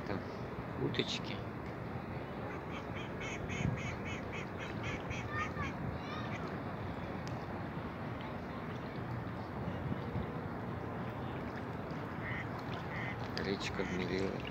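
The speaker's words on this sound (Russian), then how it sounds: "Там уточки." Ducks quack by a shallow river, short calls in scattered bursts over steady outdoor background noise, moderately distant and faint.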